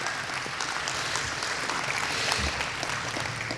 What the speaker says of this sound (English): We can clap for them too.